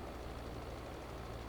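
Tractor engine in Farming Simulator 22, a steady low growl that sounds strained, running continuously at a quiet level with no break.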